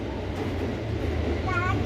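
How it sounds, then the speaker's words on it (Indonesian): A Thomas-themed train moves along the track with a low, steady rumble close by, while a voice speaks briefly over it near the end. "Ini kereta Thomas udah jalan."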